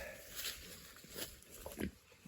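Pigs resting in paddock shade give several soft, short grunts in quick succession, faint and close.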